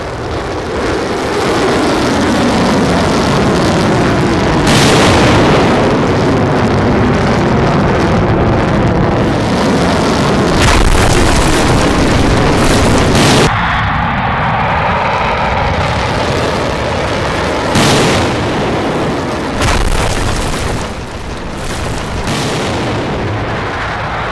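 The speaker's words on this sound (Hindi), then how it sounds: "ये अंदर जाएगा, ये बंकर को फाड़ेगा और उसके बाद ब्लास्ट होगा।" An animated bunker buster bomb drives into a bunker and blasts, rendered as a loud, continuous roar of rumbling booms and explosive bursts with abrupt cuts between sections, dense and overwhelming throughout with no voices.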